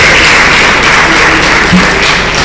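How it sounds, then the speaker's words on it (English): Audience applause at an International Women's Day celebration honoring a nurses and midwives association leader, a dense, loud, continuous wash of clapping throughout, heard close and unbroken. "Please a round of applause for him."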